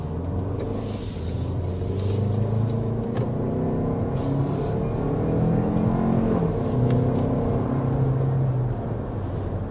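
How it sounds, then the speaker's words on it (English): A 2024 Highlander accelerates, its engine note climbing in repeated rising sweeps over a steady road rumble, moderately loud and continuous with no talking. "that's a good sampling of the acceleration here with this 2024 Highlander"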